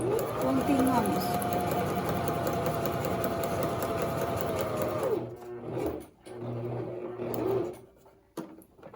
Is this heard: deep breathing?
no